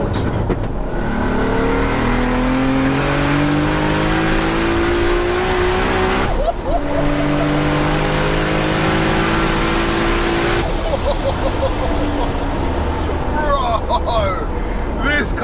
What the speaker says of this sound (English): Roll it. 4th gear rolling launch.